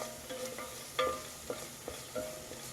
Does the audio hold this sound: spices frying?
yes